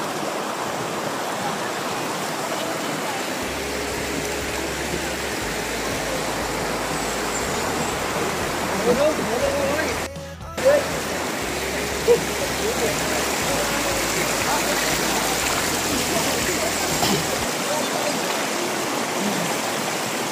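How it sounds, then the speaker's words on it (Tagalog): A strong river current rushes in a continuous, loud wash of water, with brief interruptions partway through. The river is a suba at Bitoon, Clarin, Misamis Occidental, in Mindanao. "Oh yeah, lakas ang agos dito."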